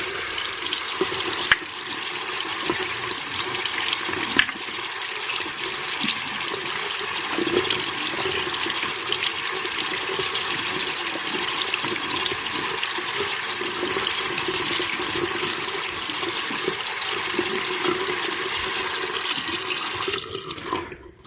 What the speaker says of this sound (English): I'm going to rinse it real quick with water